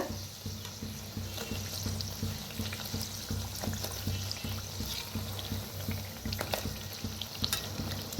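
Karanji pastries deep-frying in hot oil, a constant dense bubbling hiss with a low steady hum beneath and faint clinks, even in level throughout.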